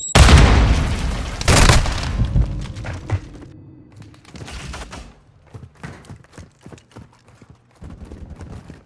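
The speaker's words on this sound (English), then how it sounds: "Semtex incoming!" Semtex grenade explosions in Call of Duty Modern Warfare 2 team deathmatch: two loud booming blasts in the first two seconds, then a run of sharp thuds and impacts with scattered game gunfire.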